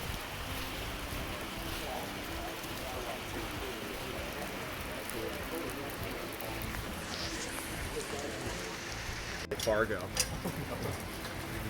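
Steady rain falling on a college campus in Newburgh, a continuous broadband hiss throughout, with a person talking over it and a brief louder clatter near the end.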